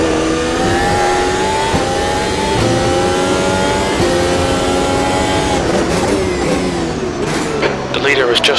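A race car in Automobilista 2 on a hot lap at Donington revs loudly and steadily, its engine note climbing and dropping through the gears, then shifting down and changing near the end, with speech heard over it.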